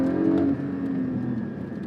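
A sports car exhaust revs hard and close, a deep throaty roar that eases off into a steady drone.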